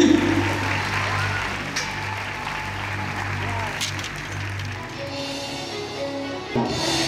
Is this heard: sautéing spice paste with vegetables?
no